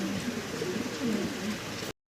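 Pigeons in cages at a farm coo softly and continuously in low murmuring phrases, a close, steady background of several birds until the sound cuts off abruptly near the end.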